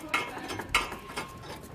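A base plate brace being bolted in with a lock washer and nut while fitting a Roadmaster crossbar-style base plate kit, giving a few faint, evenly spaced metallic ratchet clicks with no talking.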